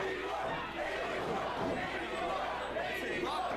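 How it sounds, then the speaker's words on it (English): A wrestling event crowd chants the number 81 together, a rough, rhythmic swell of many voices filling the arena, moderately loud and sustained across the whole moment. "This crowd is chanting 81."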